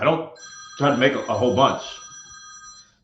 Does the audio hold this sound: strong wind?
no